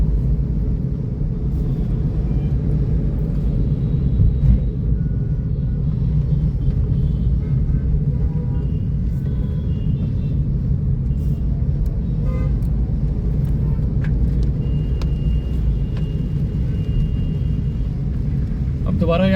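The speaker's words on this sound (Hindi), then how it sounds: "यहाँ पर ट्रैफिक चल रहा है।" City street traffic heard from inside a moving car on a commute, with a loud constant engine and road rumble, passing vehicles and occasional distant horn toots throughout.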